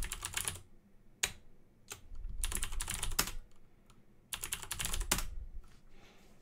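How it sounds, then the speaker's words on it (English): Bursts of fast typing on a computer keyboard, quiet and close, separated by pauses and a few single key taps. "I'm just going to type YouTube everywhere."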